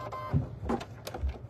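An in-the-hoop embroidery machine runs a few short stitching bursts, each brief and separated by pauses, moderately close and fairly quiet.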